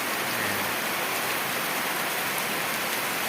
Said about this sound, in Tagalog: Kasi ngayon lang umulan, eh.